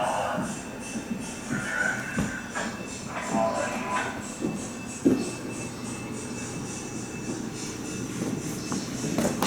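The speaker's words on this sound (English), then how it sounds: "there's that work train again" A work train rolls past at a railroad museum with a steady rumble and some clanking and shuffling, while distant voices talk faintly in the background.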